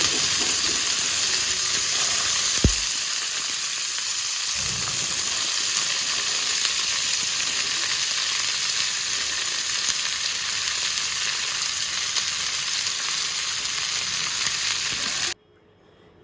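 Yardlong beans frying in hot mustard oil, giving a loud, steady hiss and sizzle that carries on unbroken for about fifteen seconds before cutting off.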